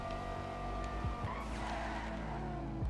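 A Banshee 900R in the GTA Online video game, its tires squealing and skidding through turns over a steady, droning engine note, close and continuous throughout.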